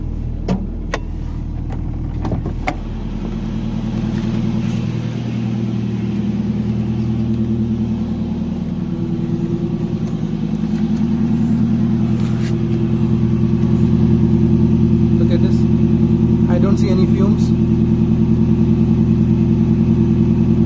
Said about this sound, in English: I am very impressed with the engine noise.